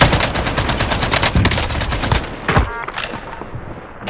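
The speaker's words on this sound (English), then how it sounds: "Oh, I'm getting shot." Rapid automatic gunfire rattles loudly in a Call of Duty Warzone match, a sustained burst of close shots followed by a few separate cracks as the firing thins out.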